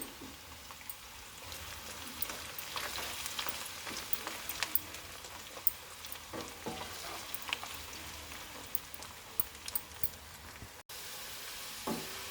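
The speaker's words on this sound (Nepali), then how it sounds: "लसुन पनि चप गरिसकेको, दुईटैसँगै फ्राई गर्ने है त" Chopped garlic and ginger fry together in a pan for chicken pickle, giving a steady, close sizzle with scattered crackles and pops throughout. There is no talking.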